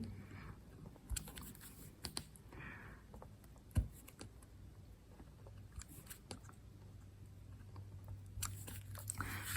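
Linoleum block being cut for a relief print with a carving gouge, giving sparse scraping clicks and soft crunchy cuts at close range over a quiet room hum, with one sharper knock partway through.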